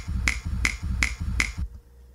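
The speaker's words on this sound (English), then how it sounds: "grab a snap or a clap sound" A finger snap sample played in Ableton Sampler, four crisp identical snaps at an even rhythm, close and dry, then a brief silence.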